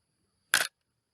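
A single crisp camera shutter click at 1/1000th of a second, short and close, surrounded by silence.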